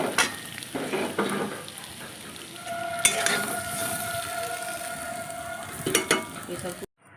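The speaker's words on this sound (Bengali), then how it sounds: "প্রথমে আলুটা একটু ভেজে নেব আলুগুলো ভাজা হয়ে গেছে লাল লাল করে" Potatoes fry in oil in a wok with a continuous sizzle, broken by scraping stirring strokes and metallic clinks from a utensil against the pan.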